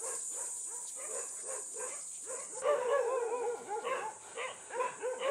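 Dogs bark and yip repeatedly during a pack walk of large dogs with many native mixed-breed dogs nearby, moderately close, with a steady high hiss of insects or ambient noise throughout and busier, louder barking in the second half.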